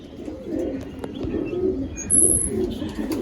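Rampuri pigeons coo in low, repeated throaty rolls close by, with a few faint chirps and a brief high whistle over the steady cooing.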